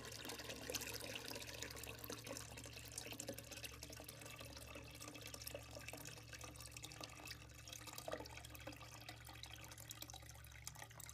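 Water pours steadily into a bucket at a florist's arrangement, a continuous faint rushing and splashing with soft drips, no voices.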